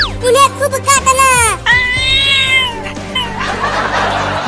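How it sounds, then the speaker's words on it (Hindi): Cat meowing repeatedly in rising, wailing cries, loud and close, mixed with excited voices and laughter in a comic domestic scene. "देखो वो बड़ा बिल्ली हमें काटने को"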